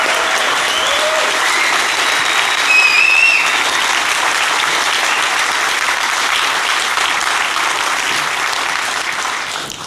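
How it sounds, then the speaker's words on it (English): Sustained applause from a large conference audience welcoming the host, steady and full throughout, tapering slightly toward the end. "Can I get you to give a round of applause to our host, NGR RDNX"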